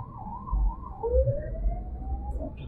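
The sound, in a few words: ambulance siren behind car at bus stand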